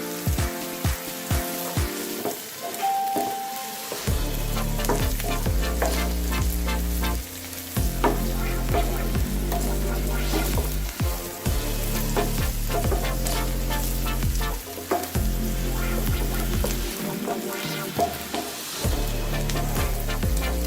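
Garlic cloves and ginger pieces frying in a pan for paneer butter masala, a steady close sizzle broken by repeated scraping stirs and clatters of a utensil, with a louder, fuller frying stretch after the first few seconds.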